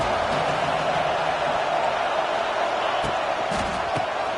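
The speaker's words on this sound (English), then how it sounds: "Man, this crowd really affecting the football game." Home crowd in the NCAA 26 college football video game roars in a steady, dense wash of cheering throughout, with a few thumps near the end.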